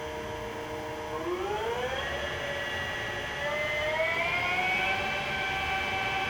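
A Colchester Combi 4000 CNC flat bed lathe spindle, shifted to the high range, winds up to 400 RPM with a rising whine that settles into a steady, fairly quiet tonal hum.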